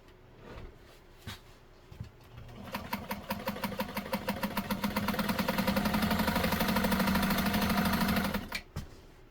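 A Nesco de Luxe push-button zigzag sewing machine stitches at steady speed, its rapid rhythmic needle clatter and motor hum close and clear, starting after a few preparatory clicks and stopping cleanly near the end.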